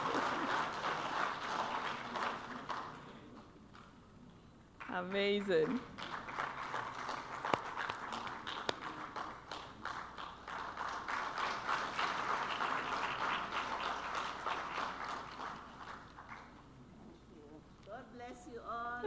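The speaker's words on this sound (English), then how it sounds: "Please, let's give her a round of applause, especially the men." An audience applauds someone speaker at the Kofi Annan Peace and Security Forum plenary, a sustained crowd clapping in a large hall, interrupted briefly by a voice and resuming under continued talk.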